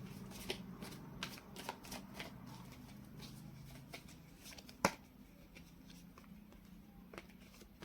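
A deck of tarot cards being shuffled, giving repeated soft riffling flicks and taps at an uneven rhythm, close and fairly quiet, with a low background hum.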